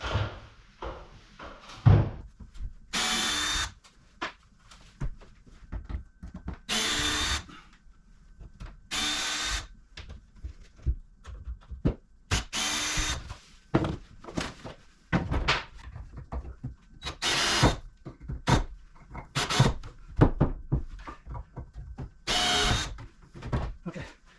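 A power drill backs screws out of a wooden workbench's outer shell in a cluttered garage. It runs in repeated short whirring bursts with knocks and clatter of wood and tools between them.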